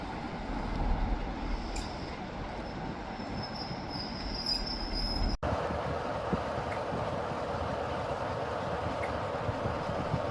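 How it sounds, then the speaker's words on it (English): A Class 37 diesel locomotive at Blackpool North station, with a continuous low rumbling engine drone and rail noise that holds steady and close for the whole stretch, with a brief dropout midway. "Wouldn't it be nice just to hear the 37 purr before it goes off to Lostock Junction"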